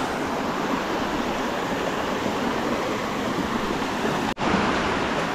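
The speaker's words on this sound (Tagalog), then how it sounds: "So yan, natagpuan natin yung isang falls." A river waterfall roars nearby as a steady, loud, unbroken rush of water with a brief dip near the end.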